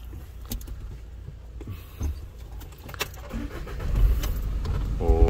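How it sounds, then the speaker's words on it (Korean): A general-goods truck's engine is started, preceded by keys jangling and a few clicks, then a low engine rumble builds and settles into a steady idle that grows louder toward the end, with no talk. "시동 걸고"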